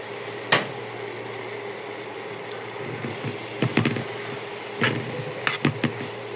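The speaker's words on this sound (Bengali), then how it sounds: "মাছটা একদম তেলে উঠে যাচ্ছে" Prawns fry in oil with ground cumin, a steady close sizzle broken by several sharp scraping stirs of a spatula against the pan.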